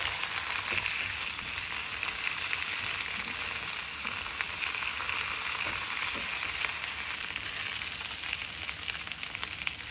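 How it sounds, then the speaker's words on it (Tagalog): Pork searing in hot oil in a pan produces a loud, constant hissing sizzle up close, unbroken for the whole stretch with faint occasional pops and no speech. "Arrange the pork in a single layer and sear until lightly browned for a deeper flavor."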